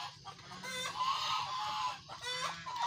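Brown Dekalb hens cluck close by, a run of several overlapping throaty calls with rising and falling notes, continuous and fairly loud with no talking.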